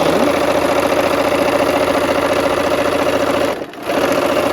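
A sewing machine runs steadily, stitching pink and other quilt pieces together along a quarter-inch seam with a constant mechanical hum, pausing briefly near the end before resuming.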